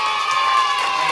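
A crowd of children cheers and shouts hooray at a Jollibee birthday party. The noise is loud, steady and continuous for just over a second, with no pause.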